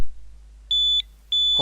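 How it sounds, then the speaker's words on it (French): An airsoft bomb prop gives two sharp, high electronic beeps, the second starting just after the first stops, clear and close in a quiet room. "on met en route les petites diodes qui vont clignoter ainsi qu'un bip"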